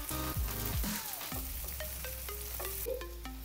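Onions fry in a pan over a high flame as the base for a prawn curry. A quiet, steady sizzle runs throughout, with melodic tones over it.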